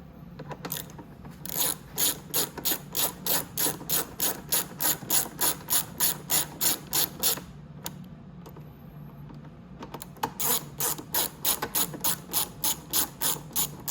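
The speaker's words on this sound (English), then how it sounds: "Just gonna grab my socket. We just have to put our 2 bolts up here." A socket ratchet clicks in rapid, even bursts while tightening bolts on the rear fender of a Venom Roma 50cc scooter, two long runs of close, crisp pawl clicks separated by a brief pause.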